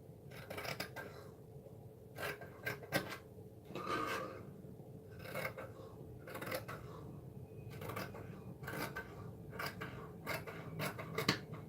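Scissors snip through fabric being cut for a simple jumperskirt bodice, with repeated crisp cutting strokes coming in irregular bursts across the clip, close and clear over a low room hum, with no talking.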